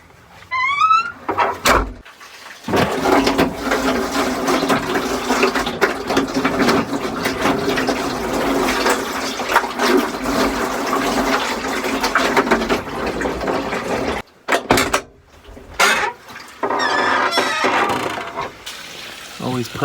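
Water sprays steadily onto the trunk of a Subaru during a leak test of new weather stripping, a loud continuous hiss broken by short pauses near the start and again midway.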